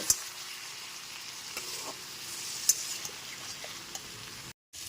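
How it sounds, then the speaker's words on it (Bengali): Ginger paste and cumin powder sautéing with a splash of water for a papaya curry make a soft, steady sizzle with occasional stirring clicks and scrapes, then a brief drop to silence near the end. "আদা বাটা জিরে গুঁড়োটা দিয়ে দেওয়ার পর এর মধ্যে দিয়ে দিচ্ছি সামান্য একটুখানি জল"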